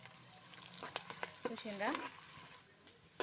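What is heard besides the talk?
onions and green chillies frying in a pan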